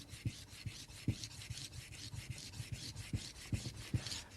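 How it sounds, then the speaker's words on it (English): A knife blade is rubbed back and forth on a sharpening stone to raise a burr, a steady rhythmic scraping of about two strokes per second, close and fairly quiet. "we're going to rub this knife until we bring a burr up on this side"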